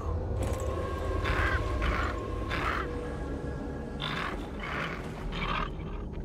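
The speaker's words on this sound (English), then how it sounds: "I never heard a crow sound like that." Harsh, distorted crow caws in Diablo IV, with about six croaking calls in two clusters over steady game ambience and low rumble.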